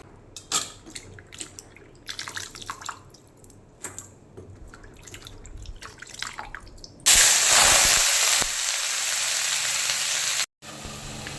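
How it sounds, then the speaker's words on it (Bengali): Sliced bitter gourd (uchhe) frying in a pan in a home kitchen. A steady, loud hiss of sizzling oil takes over partway through, after scattered clinks and quieter cooking sounds. "এখানে তো উচ্ছে ভাজা হচ্ছে"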